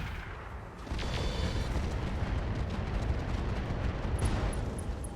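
An Ultra AC-20 autocannon firing in the RogueTech mech game, a heavy booming blast that opens into a sustained roaring rumble, loud and dense for several seconds.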